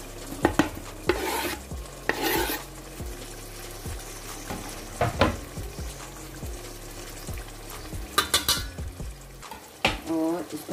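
Garlic, ginger, onion and tomato stirred and fried in a pot, with repeated loud spoon scrapes and clanks against the metal over a steady sizzle, in irregular bursts for several seconds.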